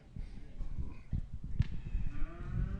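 Texas Longhorn cattle at a haltered show moo a few times, moderately close, low drawn-out calls over a murmuring crowd and hall noise.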